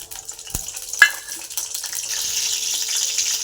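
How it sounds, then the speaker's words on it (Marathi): Green chilies dropped into hot oil in a kadhai on a gas stove: a sharp clunk, then a crackling sizzle that swells and keeps hissing steadily nearby. "त्याच्यात मिरच्या टाकायच्या आहेत।"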